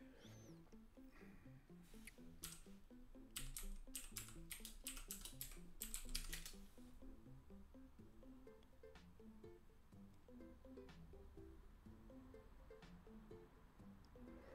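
Quiet computer keyboard typing at a desk: a quick run of crisp key clicks, several close together, followed by a few sparse taps over a steady low hum.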